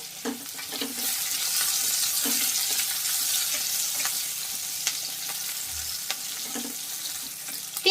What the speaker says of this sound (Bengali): এবার একটু হালকা ভেজে নিতে হবে